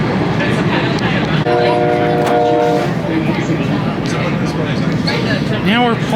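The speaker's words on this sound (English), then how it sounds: "Now we're pulling into Morton Station." Commuter train on the Media/Wawa rail line pulling into Morton station in Pennsylvania, with steady rumble of rail noise throughout, a brief horn-like tone midway, and people talking over it.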